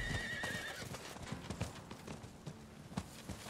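Horse hooves clip-clopping in Diablo 4 as a mounted character rides along, a steady rhythmic clatter of hoofbeats over dense game ambience, with a brief whinny near the start.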